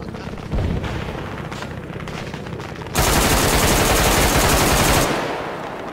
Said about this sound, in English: I just shot at someone and I just got a kill assist.